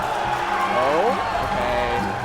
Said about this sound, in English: The crowd's getting a little wild for the double shine.